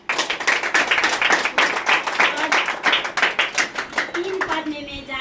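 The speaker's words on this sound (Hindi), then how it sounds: "जोरदार ताली बजाइए।" A church congregation claps loudly in unison, a rhythmic, energetic beat of many hands repeating steadily for several seconds before tapering off, with a voice briefly rising at the close.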